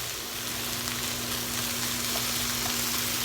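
Minced garlic frying in a pan, a steady close sizzle with a faint constant hum beneath, heard alone.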